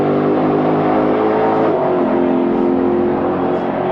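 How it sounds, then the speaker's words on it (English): A Shelby race car powers out of a corner on a track, a loud continuous engine roar holding steady and then easing slightly in pitch, heard close. "As the Shelby lets the tail ends kick out just a bit, gets it gathered up, power down."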